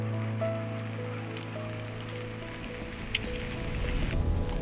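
Steady rain falls beside a river through a quiet residential area, an even wash of patter with a low hum underneath and no voices.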